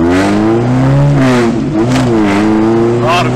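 A car engine revs and settles in rising and falling tones during a clutch test, loud and close, with the pitch sweeping up and down several times and a person talking over it.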